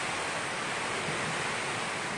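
Strong wind from Typhoon Tino roars in a constant, loud, broadband rush that buffets the microphone, with no break or talk during the short stretch.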